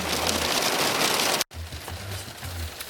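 Light rain falls steadily outdoors in Greece, a soft continuous patter with a brief dropout midway and no voices.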